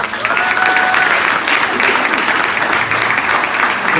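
Loud, continuous audience applause at the American Advertising Awards for a Mosaic Champion honoree, a thick, even roar of many hands clapping throughout.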